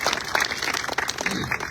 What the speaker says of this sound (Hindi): तो ताली बजाइए ना अपने लिए।